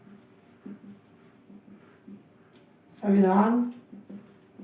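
Writing on a board during a classroom lecture: soft, quick tapping and scratching strokes, close but faint, briefly interrupted by a short spoken word from the teacher.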